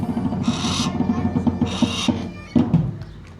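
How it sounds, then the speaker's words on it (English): Owls at a falconry stall in a busy outdoor market, giving repeated short low hoots in a steady rhythm alongside raspy hissing bursts and occasional thumps, close by with no talk. "Here, falcons and owls."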